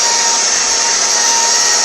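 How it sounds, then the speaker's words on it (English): A grain mill grinds rice into flour, giving a continuous high, dense whirring grind that stays loud and even throughout the short stretch, with no voices. "Now the mill is grinding the powder, the rice and the powder."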